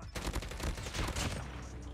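Kilo 141 rifle in COD Mobile fires a rapid, dense automatic burst, loud and close, lasting under two seconds without pause.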